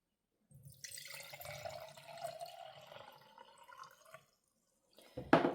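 Water pours steadily into a glass mason jar for homemade refrigerator dill pickle brine, a continuous splashing trickle lasting several seconds, followed by a short pause and a solid clunk of the jar.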